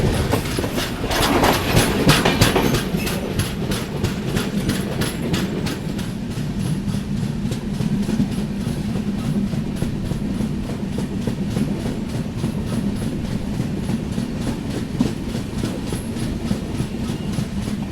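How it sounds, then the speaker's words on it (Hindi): The Mandovi Express rolls along the Konkan Railway after leaving Kudal, with a loud, steady rumble from inside the train, rapid clickety-clack of wheels over rail joints and a persistent low drone throughout. "चलिए, तो कुडाल से हमारा डिपार्चर हो चुका है"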